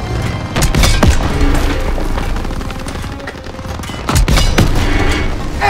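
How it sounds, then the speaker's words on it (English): A German Panzer tank is blown apart in a Call of Duty WWII battle: heavy booming explosions and rattling gunfire fill a loud, dense soundscape, with a big blast near the start and another burst near the end. "Enemy tank destroyed."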